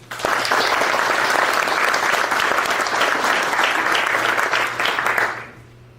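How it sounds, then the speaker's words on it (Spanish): An audience at a book launch in Colombia gives the speakers a strong round of applause, dense and even throughout before fading out at the end. "Recibámoslas con un fuerte aplauso"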